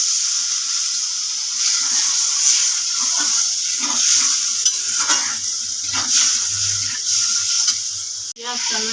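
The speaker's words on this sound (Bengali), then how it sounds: "জল দিয়ে দিলাম।" Water poured into a pan of frying food while making chicken pakora, a steady sizzling and stirring hiss running close and loud throughout, with a brief clatter near the end.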